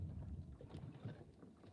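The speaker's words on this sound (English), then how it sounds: "That's our cage diving boat, it's just a different boat." A cage diving boat rumbles out on the bay at Mossel Bay, a low, steady engine and water wash with wind buffeting the microphone, faint and continuous with no voices.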